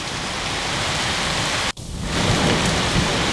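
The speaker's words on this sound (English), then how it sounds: "Ah, we can hear the thunder." Heavy rain with wind during a June thunderstorm in Granby, Quebec pours steadily throughout, broken by a brief dropout, while a low rumble of thunder swells beneath the downpour in the second half.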